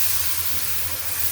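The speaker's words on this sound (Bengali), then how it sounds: "একটু কষানোর জন্য দিয়ে দিলাম পানি" Water poured into frying ground coriander-cumin, turmeric and dried chili powder releases a brief, loud, steady hiss of steam and sizzle with no speech.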